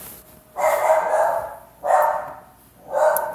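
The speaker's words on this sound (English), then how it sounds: "That's my dog barking outside." A dog barks outside in three muffled, fairly distant bursts, each a sustained bark about a second apart, with no voices.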